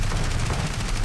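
Rapid 20 mm cannon bursts from a BF-109 fighter in the War Thunder combat flight game, a dense, continuous low rattle of gunfire filling the whole moment at steady loudness.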